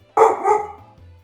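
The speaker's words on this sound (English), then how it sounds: "The doggies are barking at things." Dogs in the video game Final Fantasy XIV bark in a quick pair of sharp, close woofs, followed by quiet game ambience.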